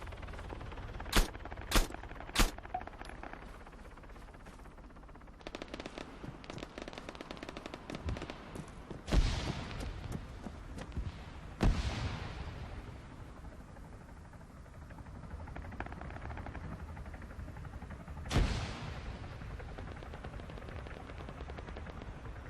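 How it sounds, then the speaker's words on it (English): Bursts of rapid gunfire in Arma 3 crackle through a steady noisy background, with a quick volley early on and scattered louder shots later, no talking. "And not sure where that gunfire come from."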